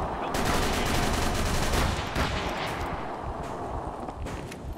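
Rifle fire aboard a boat in Call of Cthulhu: Dark Corners of the Earth, dense rapid volleys of loud overlapping shots across the whole stretch, fading slightly toward the end.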